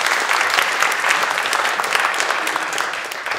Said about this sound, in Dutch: En dan, hartelijk applaus